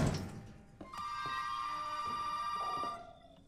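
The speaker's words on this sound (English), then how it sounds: "Because the phone is ringing." A telephone rings in Resident Evil 7: Biohazard, sounding as a short, loud, metallic bell trill that sustains for about two seconds after a low thud, with no speech.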